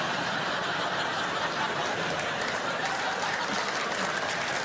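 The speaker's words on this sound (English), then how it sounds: "Thanks for that round of applause." A comedy festival audience gives a sustained round of applause, dense and steady throughout, with a few scattered chuckles mixed into the clapping.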